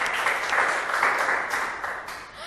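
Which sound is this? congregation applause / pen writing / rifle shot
congregation applause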